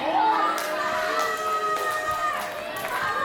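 Wrestling crowd cheering for Tucker in his hometown ring, a steady roar of many voices with shouts and whistles layered on top, loud and sustained throughout.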